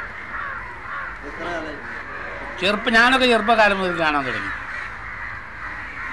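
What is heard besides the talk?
crows cawing as they gather to roost at dusk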